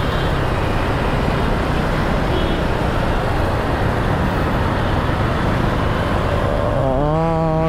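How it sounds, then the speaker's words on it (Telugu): Heavy road traffic on a busy Hyderabad street makes a dense, loud, continuous rumble throughout, with a short tonal, horn-like sound rising near the end. "ట్రాఫిక్"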